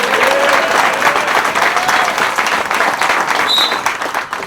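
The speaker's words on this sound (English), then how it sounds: "So let's give him a round of applause." A crowd at a high school football game, Berea-Midpark at Avon, applauds loudly and steadily, a dense wash of clapping and cheering that holds for several seconds before easing slightly.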